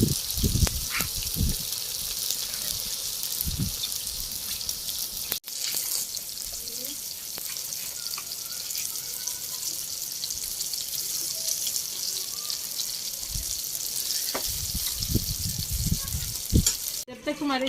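Shami kebabs sizzle steadily in hot oil in a village kitchen, a continuous close crackling fry with a few brief clatters and no talk over it.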